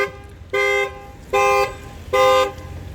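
A 2016 Volkswagen Passat Comfortline's horn toots three times on unlocking, in a steady rhythm, each short blast evenly spaced, with faint low background hum between.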